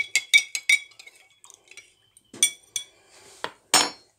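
A spoon stirs two spoonfuls of an immune-support remedy mixed with water in a glass, giving a quick run of bright clinks, then scattered lighter taps and a final loud chink, with no talking.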